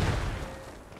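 Artillery shells land in Post Scriptum, a World War II D-Day battle game, as one brief, booming impact with a low rumble that fades quickly.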